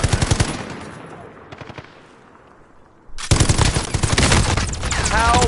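A player's gun fires in a shooter video game: rapid automatic bursts rattle loudly at the start, fade into a quiet lull, then a long, dense stretch of close gunfire returns.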